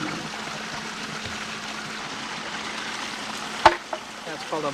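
A bamboo boar-scarer water fountain at a Japanese-style garden with a pagoda gives a single sharp, hollow clack over a steady background trickle of flowing water, followed by a few softer knocks.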